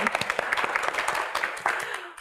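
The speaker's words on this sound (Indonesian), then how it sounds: "kita berikan tepuk tangan yang paling meriah juga untuk rekan-rekan mahasiswa dari ADVI" Audience applause for a group of university students at a televised Q&A talk show, a dense wash of clapping that holds steady at moderate loudness through the short stretch, with speech mixed in beneath it.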